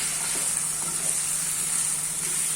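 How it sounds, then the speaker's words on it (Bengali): Chopped potatoes stirred in hot oil for an egg curry, a steady loud sizzle and hiss of frying that fills the short stretch, with faint scraping underneath and no voices. "আমি আলুটা দিয়ে দিয়েছি এখন আমি ভালোভাবে মিশিয়ে নিব"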